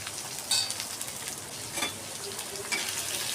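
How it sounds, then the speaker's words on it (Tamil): Onions hit hot oil with green chillies and curry leaves while cooking crab masala, giving a continuous soft sizzle and fry with occasional stirring clinks, close but fairly quiet. "இப்போ நம்ம ஆனியன் சேர்த்துக்கலாம்"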